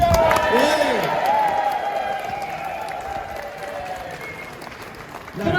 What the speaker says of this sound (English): Let's have a big round of applause for Jenny.